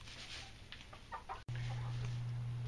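Backyard chickens in a coop and run cluck in several short bursts against a steady background hum, which grows louder partway through.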